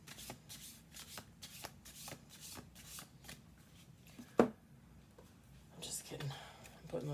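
Tarot-style cards are shuffled and handled on a table in soft, close riffling bursts that repeat steadily, with one sharp tap midway and quiet talk beneath.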